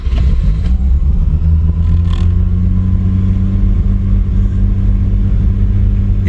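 A Mazda RX-7 FC rotary engine idles high with a steady, loud drone and a continuous low hum close by, its pitch holding even throughout with no voices.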